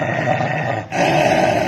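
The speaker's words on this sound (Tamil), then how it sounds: "என்ன ரோட்ல இவ்ளோ நாய்ங்க படுத்திருக்கு?" Dogs lying on a road growl loudly and close, a rough continuous rumbling snarl with a brief dip midway before resuming, with no voices.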